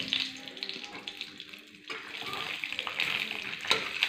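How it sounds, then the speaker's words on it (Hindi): Peanuts frying in a little oil in a pan for homemade chivda give a steady close sizzle and crackle, with a brief louder burst near the end. "मैं इस मूंगफली को पहले तेल में अच्छे से ताल लेते हूँ"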